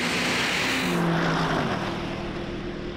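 A BMW M5 Competition and a Mercedes-AMG E 63 S launch side by side in a drag race. Their engines make a loud, continuous roar with rising tonal whines as they accelerate hard.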